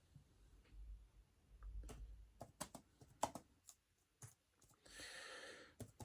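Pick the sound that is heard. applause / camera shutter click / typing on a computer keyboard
typing on a computer keyboard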